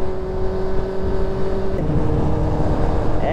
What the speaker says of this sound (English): And this one series behind sounds good also.